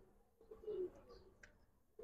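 Silver pigeons coo in a short, soft, low burst at close range, amid faint background rustle and a brief higher chirp.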